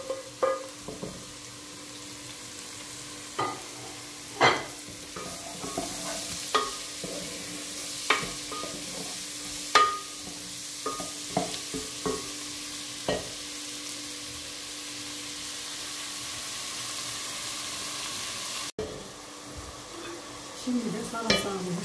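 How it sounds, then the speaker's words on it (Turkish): Vegetables frying in a pan for a chicken, vegetable and beetroot soup, with steady sizzle, punctuated by regular scraping and knocking strokes of a spoon stirring, no talking. "İçine koyuyoruz ve karıştırmaya devam ediyoruz."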